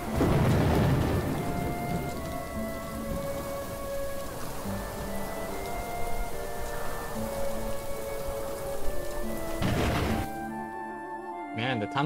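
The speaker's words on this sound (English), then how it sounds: "Thunder is letting out like crazy right now." In the video game Little Goody Two Shoes, a thunderstorm sets steady heavy rain against loud rolling thunder, followed by a sharp crack near the end, with no voices over it.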